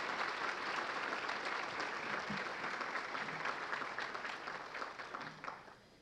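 Audience applause fills an awards ceremony hall, a steady wash of many hands clapping together that gradually thins and fades toward the end.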